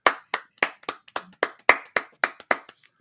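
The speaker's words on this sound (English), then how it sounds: "Since we don't have an applause audio, I'll just do one in the distance." One person claps hands about ten times in an even, moderately quick rhythm, each clap sharp and close, with no other sound between the claps.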